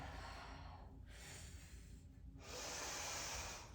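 Heavy breathing during a home fitness workout, steady airy exhalations and inhalations with a louder, fuller breath near the end, close and alone with no talk.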